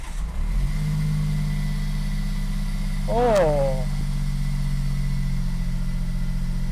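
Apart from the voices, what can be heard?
car starter motor cranking engine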